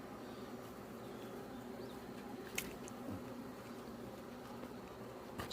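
Black hornets buzzing around beehives at an apiary, a steady low insect drone filling the background with a brief sharper buzz passing close midway, no voices.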